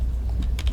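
A computer keyboard clicks in a quick burst of a few close keystrokes over a low steady hum.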